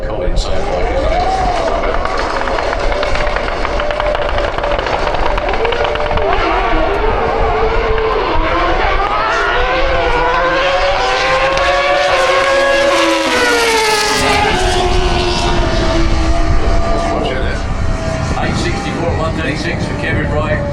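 Drag racing motorcycles launch at Santa Pod, their engines rising in a loud continuous howl that climbs in pitch and sweeps past, under steady commentary from someone speaking throughout.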